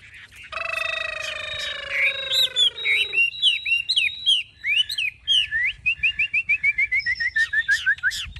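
A hwamei, the Chinese melodious laughingthrush, sings loudly and close up, opening with long sustained whistles and then moving into varied warbled phrases and a fast run of repeated sharp chirps, with no talking.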